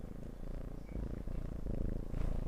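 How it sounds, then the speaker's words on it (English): A cat purrs close up, a steady low rumbling vibration with a regular pulsing rhythm that rises and falls with each breath, alone and fairly quiet. "Can you hear the purring?"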